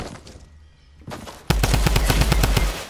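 Fortnite battle royale gunfire: after a quieter start, a loud rapid string of evenly spaced automatic shots bursts in and hammers on steadily to the end.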